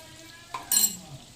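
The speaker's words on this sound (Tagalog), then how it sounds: "Let's now add the onion. Stir for a while." Onion frying in a pan while being stirred, a brief scrape of utensil against the pan followed by a short burst of sizzling, fairly quiet overall.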